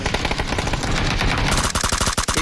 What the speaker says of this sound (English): He shot me with the shotgun, bro.